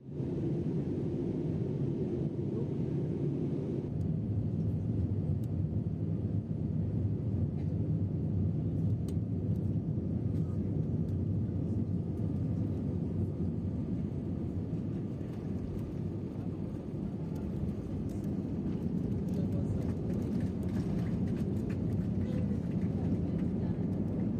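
Steady, loud broadband roar inside a South African Airways airliner cabin on descent toward Lusaka, a continuous engine and airflow drone that holds evenly throughout with no clear talk.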